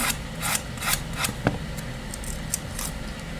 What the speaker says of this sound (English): I'm just gonna get the bulk of it with the big sanding block